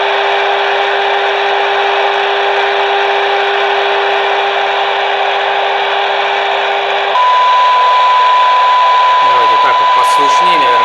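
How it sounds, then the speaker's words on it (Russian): A steady 1000 Hz audio test tone modulating the signal of a Wouxun KG-UV2Q handheld radio, heard as a continuous pure whistle over a constant hiss, with a lower tone before it shifts pitch partway through. "Слышнее, наверное, будет 1000 Гц, я просто подал звуковую частоту"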